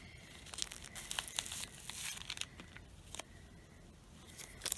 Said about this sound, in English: let's get that plastic off of her supposedly light brown hair